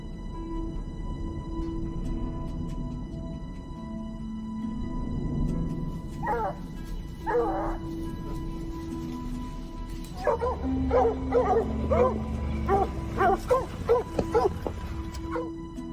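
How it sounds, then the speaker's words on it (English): Hound and kelpie hunting dogs used for bear hunting in Alaska bark and yip in short bursts, first sparse and then in a rapid cluster, over a steady low rumbling background. "In Alaska, hound and kelpie hunting dogs are integral to bear hunting efforts"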